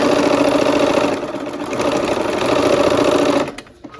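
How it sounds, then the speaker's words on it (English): A sewing machine runs a quarter-inch seam on quilt fabric with a fast, steady whirring stitch rhythm, loud and close, dipping briefly once and stopping just before the end. "We're gonna use our 1/4 inch seam and sew that last seam"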